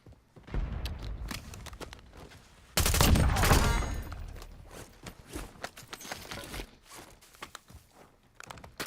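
Gunfire in the video game Call of Duty Warzone, set in Verdansk: bursts of rapid shots, loudest in one dense volley near the middle, with scattered sharp single cracks and footstep-like taps before and after.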